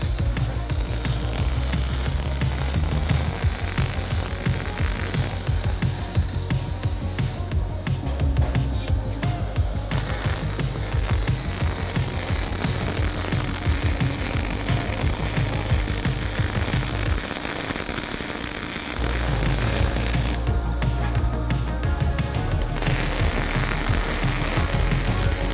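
Loud, continuous welding noise from TIG/MIG welding during a welding competition, a steady hiss and crackle with low rumble that runs through the whole stretch and drops out briefly in a couple of places.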